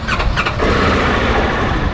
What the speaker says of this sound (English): first cold start for the boys on a 2025 Polaris Ranger